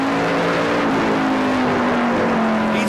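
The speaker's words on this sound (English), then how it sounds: "He's really working that thing up off the corner." Number 3 Dodge NASCAR Canadian Tire Series race car accelerating hard off a corner, engine note loud and steadily climbing in pitch, close and continuous.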